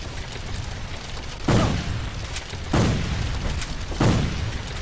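Three booming Colt rifle shots from the Civil War video game A Nation Divided, set at Bull Run, each a loud, sharp report with a short decaying tail, evenly spaced over a steady noisy background.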